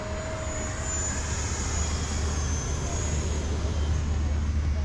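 FMS P-40B Warhawk RC warbird flying outdoors, a steady, moderately distant electric motor drone holding over a low, continuous wind rumble for the whole stretch.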